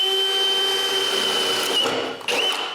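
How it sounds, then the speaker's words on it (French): A power drill bores a hole while working on a cabin water system, a steady high whine running nearly three seconds with a brief dip near the end as the bit cuts through. "Je perce donc le trou."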